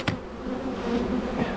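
Honeybees at an open hive during an inspection give off a close, steady buzz that swells slightly over a brief moment, with no talk.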